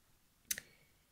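Scissors snip crochet thread once as a small crocheted bridal tiara for a Barbie doll is finished, a faint, quick double click in an otherwise quiet room.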